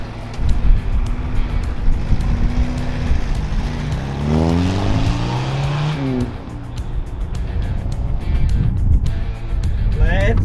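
A lowered classic VW cruises on the road, its engine droning with a rising and falling rev sweep midway as it accelerates and shifts, plus road and wind rumble, close and loud throughout.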